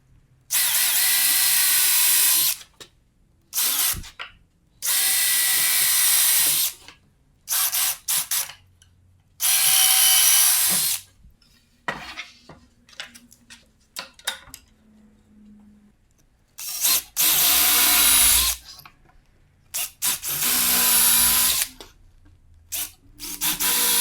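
A power drill drives screws into a wooden board in a workshop, with repeated loud bursts of high whirring, each a couple of seconds long and separated by short silences, close up.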